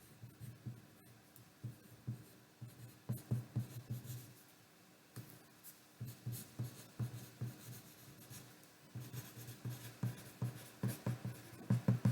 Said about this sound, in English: So start writing.